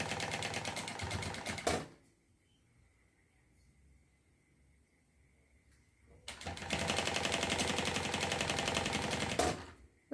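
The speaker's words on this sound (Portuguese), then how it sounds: "Um pé de máquina e costura de fora a fora, garantindo que tá costurando as duas camadas." A sewing machine stitches across two layers of a plush bag with white nylon thread, running in two loud, fast, rattling bursts separated by a quiet pause of several seconds.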